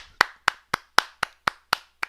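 Clapping at the close of a game-development talk at Devils Camp 2020: eight sharp, evenly spaced claps in a steady rhythm, crisp and close, with no voices.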